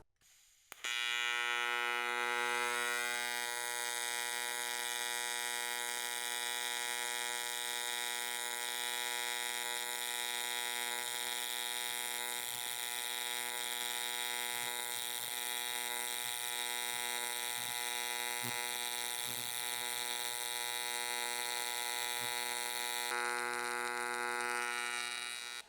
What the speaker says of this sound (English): Now we're going to start welding some aluminum.